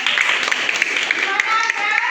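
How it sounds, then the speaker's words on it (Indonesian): A classroom of students claps briefly for a classmate during a lesson, a short burst of quick, fairly close hand claps that runs the whole moment. "Tepuk tangan dulu buat Anjur."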